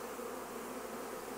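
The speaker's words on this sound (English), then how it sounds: "Another bee." Honey bees buzzing outdoors, a steady dense hum that fills the whole moment without pause, close by and continuous, with no voices.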